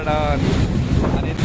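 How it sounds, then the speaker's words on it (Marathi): Sea waves surge against the rocks at Rock Garden in Malvan, a loud, continuous wash of surf heavily buffeted by wind on the microphone. "आणि इथं जबरदस्त अशा लाटा येतात."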